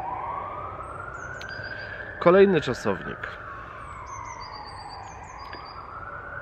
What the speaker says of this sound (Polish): Jak słyszymy w tle Rettungswagen.